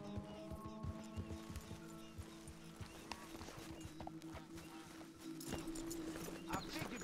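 Horses in the video game Red Dead Redemption 2 move across ground with repeated clip-clop hoofbeats, faint and uneven, alongside a neigh and scattered game sounds.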